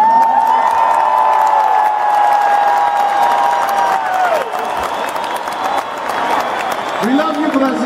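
A large concert crowd in Brazil, at a show in Belo Horizonte in 2013, applauds and cheers loudly and steadily, with whoops rising over a dense wash of clapping and a sustained tone underneath.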